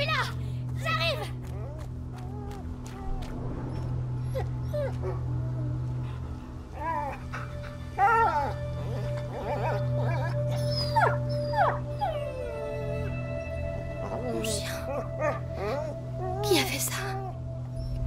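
A dog whimpers and yelps in bursts amid game music and a steady hum in the video game A Plague Tale: Innocence, with a man calling out over it.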